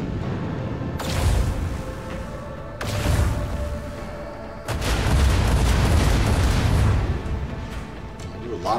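Ship broadside cannons fire on an enemy vessel in the space strategy game Rogue Trader, sounding as three heavy booming volleys, each a sudden loud blast with a long rumbling tail, the last one sustained and rolling.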